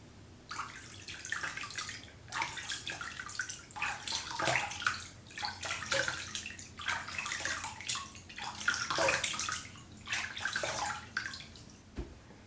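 Water splashing and rinsing off the face and lash extensions at a sink, in irregular close bursts of pouring and dripping with short pauses between, no talking.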